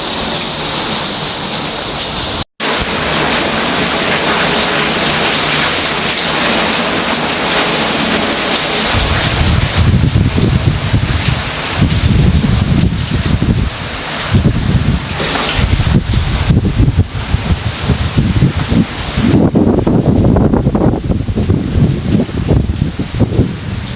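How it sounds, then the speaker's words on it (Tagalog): Heavy, steady typhoon downpour roaring with gusting wind in Albay, Philippines, loud and continuous, with a brief dropout early on and the wind surging in bursts. "malakas na ulan at hangin, dala ng bagyong Juan"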